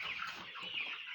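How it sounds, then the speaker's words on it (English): Chickens cluck continuously inside a poultry house, a short, faint burst of layered bird calls with no talking. "Our birds are here."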